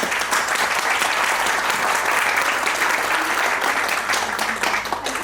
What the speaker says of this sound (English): can we have a nice round of applause?